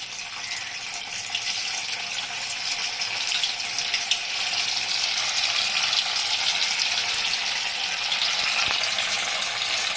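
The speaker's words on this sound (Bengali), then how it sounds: "তো এখন আমি ভাজবো এগুলোকে। এই যে তেলে ছেড়ে দিচ্ছি।" Red lentil dhoka pieces fry in hot oil, giving a steady, loud, close hiss that holds without a break, with no voices over it.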